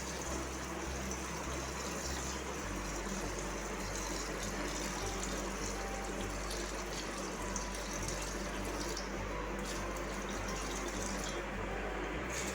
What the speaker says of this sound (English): So slowly I am adding pre-cooled warm water 2 liters.